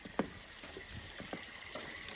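Water from a garden hose runs into a yard drain, a faint, steady trickle with scattered soft drips and splashes, close by and without talk.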